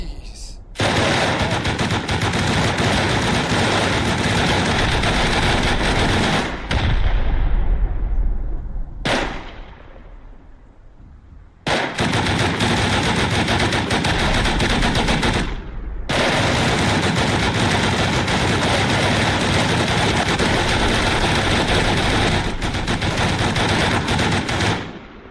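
Automatic turrets in the game Rust fire long, loud, sustained bursts of rapid gunfire, broken by two short gaps with trailing echoes before the shooting resumes.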